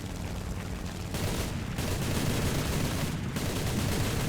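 Front-mounted aircraft cannons fire in War Thunder dev-server gameplay as loud, continuous rapid bursts, broken by two brief pauses, with no voice over them.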